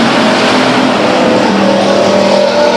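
Race cars roar around the oval at Stockton 99 Speedway, one driver feathering the throttle. The engine noise is loud and steady, with droning pitch shifts as the cars pass.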